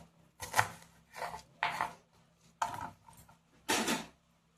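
Small onion bulbs are cut away from spring onion leaves with a knife in a village kitchen, giving five or six separate close scraping, cutting strokes with quiet pauses between them.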